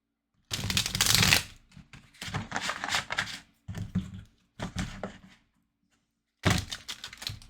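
An Ask the Witch tarot deck is shuffled in several bursts of crisp riffling and card flutter, each lasting about a second, separated by short pauses, close and clear with no talking.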